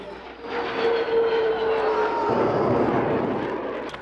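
A loud fighter jet engine roar swells and holds steady as the Blue Angels pass overhead at an air show, with a faint whine sliding downward through the noise.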